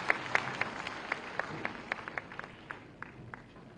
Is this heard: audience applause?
yes